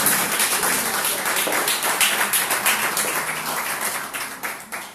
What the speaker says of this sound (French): Acclamons bien fort le Seigneur